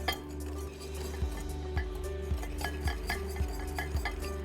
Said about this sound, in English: We're going to start to mix that in.